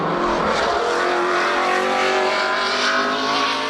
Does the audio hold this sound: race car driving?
yes